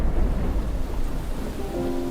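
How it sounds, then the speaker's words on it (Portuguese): Heavy thunderstorm with a continuous loud wash of heavy rain and deep rumbling thunder, steady throughout with no voices. "Ouviu-se o estampido do trovão e o lampejo do relâmpago. Logo passaram a cair grandes gotas de chuva."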